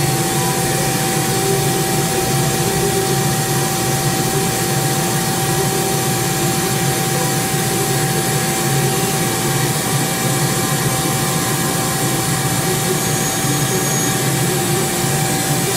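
A Mori Seiki 1500SZ CNC lathe with its spindle turning at 2000 RPM, a steady, even machine hum and whir that carries unchanged throughout, with no voices.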